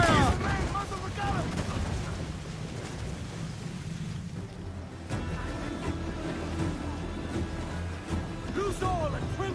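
Ship cannon fire during a naval battle in Assassin's Creed 4, loud booming blasts amid a dense mix of crew shouts, creaking and sea noise, with voices calling out orders throughout.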